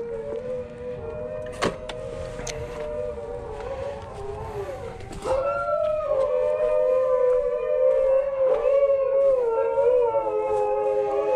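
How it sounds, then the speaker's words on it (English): Several dogs howl together, a long wavering chorus of rising and sliding howls that swells louder midway and carries on steadily, close by and with no talk over it. "there's my dogs."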